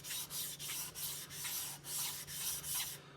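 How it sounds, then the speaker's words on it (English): A 400 grit whetstone, wet in a holder, is flattened with a diamond lapping plate, giving about eight rhythmic, gritty scraping strokes close up, each a short rasp with brief gaps between. "I'm just gonna flatten this stone"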